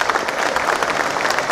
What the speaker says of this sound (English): you should all give yourself a round of applause for that